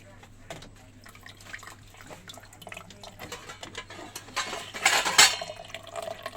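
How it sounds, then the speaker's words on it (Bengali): Water poured into a container, a faint trickle and splash that swells into a louder rush near the end, heard under quiet room noise and some voices. "জলটা ভরি।"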